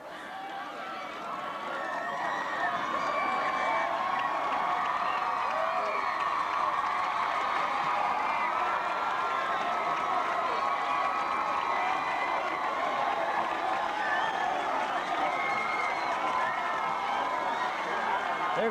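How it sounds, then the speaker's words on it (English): A Haslett high school football crowd roars steadily throughout, a dense wash of cheering and shouting voices that swells in the first seconds and then holds at a loud, sustained level. "you can feel the excitement from the Haslett crowd"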